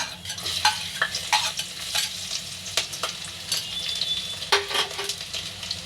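Garlic and fenugreek seeds sizzling steadily in hot oil in a pan, with scattered crackles and pops, and a few light scrapes of a stirring utensil.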